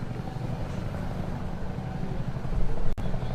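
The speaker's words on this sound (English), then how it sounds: "the Z9 and the AB-412 helicopters are able to land in almost anywhere in our beautiful country." Military helicopters, a Z9 and an AB-412, pass over a defence force ceremony parade ground, a steady low rotor and engine drone rising slightly near the end before a brief dropout.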